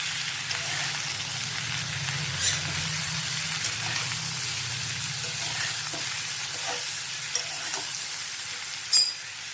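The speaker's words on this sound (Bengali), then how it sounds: "নুন হলুদ দিয়ে আবার একটু মিক্স করে নিচ্ছি" Salted, turmeric-dusted greens being stirred in a frying pan, giving a steady bright sizzle with occasional soft scraping knocks and a sharper clink near the end, close and without talk.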